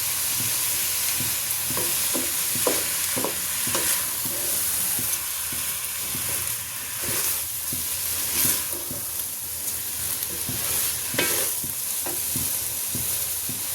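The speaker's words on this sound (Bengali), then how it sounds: "এখন আমি এর মধ্যে আদা রসুনের পেস্ট দিয়ে দিচ্ছি।" Ginger garlic paste frying for bhuna khichuri, a dense steady sizzle with a spoon scraping and stirring through it in an uneven rhythm, close by, with no talk.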